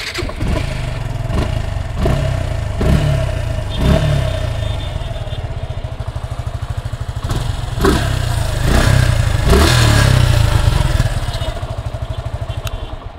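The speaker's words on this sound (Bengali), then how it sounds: "তো গাড়িটা আমরা সাউন্ড দেখে আসবো।" A 2024 Suzuki Gixxer SF ABS motorcycle in fresh condition with under 4,000 km runs close by, its engine idling with a steady pulse and several sharp throttle blips and revs in between.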